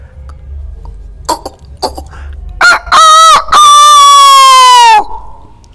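A voice imitates a rooster crowing at dawn, a few short throaty coughs and clucks leading into two loud, drawn-out crowing calls, close and alone.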